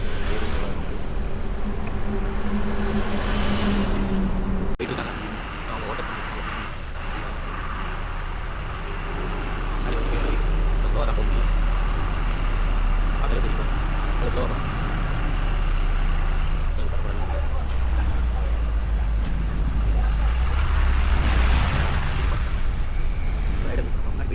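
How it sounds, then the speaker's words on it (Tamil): Morning road traffic in Chennai, heard during a bicycle ride: trucks, buses and cars rumble past close by in a continuous wash of engine noise and wind, with air-brake hisses and occasional talk. "காலையிலே டிராஃபிக்"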